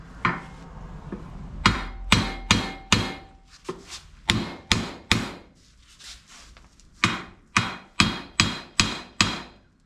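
A hammer strikes a driveshaft yoke in a steady run of loud metallic blows close by, about fifteen hits in clusters separated by short pauses.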